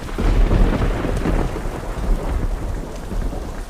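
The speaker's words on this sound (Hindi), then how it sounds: "कभी मूसलाधार बारिश होती और कभी कभी हल्की पड़" Heavy, steady downpour with deep, rolling thunder rumbling underneath, a dense continuous roar of rain and no voices.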